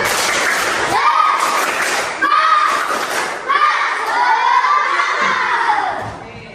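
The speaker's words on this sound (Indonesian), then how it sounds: "Tepuk tangan." Schoolchildren in a classroom shouting and cheering together in loud bursts, with clapping mixed into the noisy group voices.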